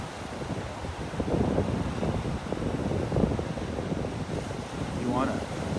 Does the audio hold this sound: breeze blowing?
yes